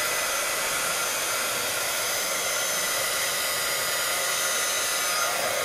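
An old heat embossing tool blows a loud, steady whoosh of hot air throughout, close and unbroken, with no voices.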